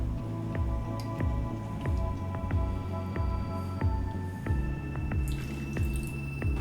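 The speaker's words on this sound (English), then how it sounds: "we're going to double strain that into an ideally chilled coupe" A Hemingway Special cocktail is double strained into a chilled coupe glass. Liquid trickles and drips steadily and close by, with soft splashes over a faint constant background.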